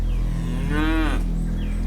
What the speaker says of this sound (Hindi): अरे अम्मा, अड़ियल भैंस है वो